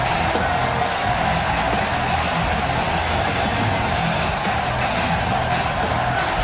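Dense, steady crowd roar fills a wrestling arena in Milwaukee before a cruiserweight match, sustained and loud throughout with no breaks or quiet moments.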